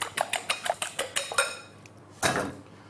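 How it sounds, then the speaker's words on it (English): Eggs whisked briskly in a bowl for an omelette, a fork or whisk clinking against the sides in a fast, even rhythm of about a dozen close taps, then a brief pause and one louder clatter. "Whisk up your eggs."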